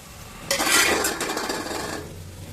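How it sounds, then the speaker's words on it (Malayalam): Green chillies and curry leaves fry in hot oil for tamarind ginger curry, a sudden close sizzle with a spoon scraping and stirring in the pan, easing to a steady hiss. "ഇതേപോലെ നമ്മളിവിടെ പച്ചമുളകും കരിവേപ്പിലയും വറുത്ത് കോരി വെച്ചിട്ടുണ്ട്"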